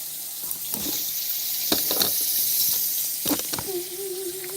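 Tap water runs steadily into a sink as items are rinsed off, a continuous hiss of flow with a few brief splashes and clatters partway through, close by and fairly quiet.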